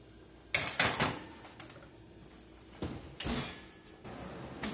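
Homemade croutons on a tray going into a kitchen oven: a metallic oven door clanks open, the pan rattles in with scraping knocks, then the door thuds shut, a few close, distinct bangs.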